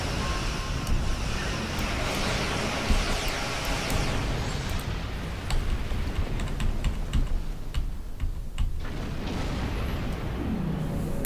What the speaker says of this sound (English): At least this keyboard's less clicky, it's less noisy than my last one.